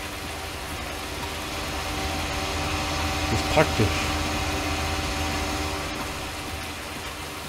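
Fendt tractors in a farming game running with a steady idling engine drone and faint vibration, with a brief rattle in the middle and someone talking over it.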